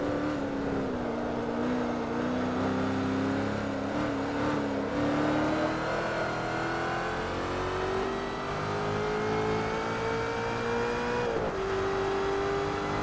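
A Ford GT races on the Nordschleife in Forza Motorsport 3, its engine a loud, continuous high-revving drone that climbs steadily through the gears, with a brief dip around a shift before rising again.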